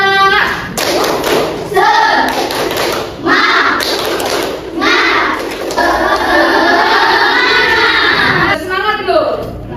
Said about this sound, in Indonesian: Kita mau tepuk semangat dulu nih.